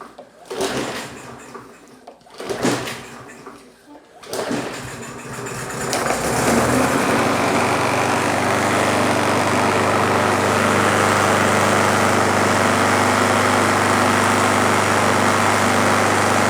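A Yard Machines 21-inch push mower's small engine, primed with carb cleaner, coughs through a few brief attempts, then catches and settles into a loud, steady, droning run. A voice is faintly heard early on.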